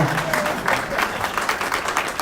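An audience applauds a speaker at a talk on health institutions in Mexico, a brief, moderate burst of many hands clapping at an even level.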